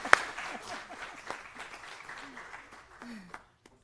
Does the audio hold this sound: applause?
yes